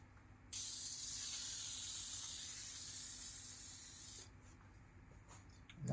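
Degreaser sprays onto a 2004 Subaru Impreza engine in one long, close hiss lasting about four seconds, then cuts off, leaving quiet garage background.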